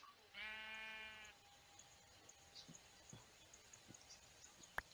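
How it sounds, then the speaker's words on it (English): A single sheep bleat in the Minecraft video game, a clear tonal wavering call of about a second near the start, followed by quiet game ambience with faint footstep taps and a brief sharp click near the end. "I hear sheep"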